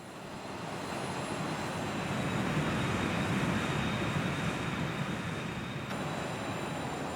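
A Bombardier Challenger 300 business jet in X-Plane roars steadily with a dense, continuous engine drone and faint high whine, loud and unbroken with no talk.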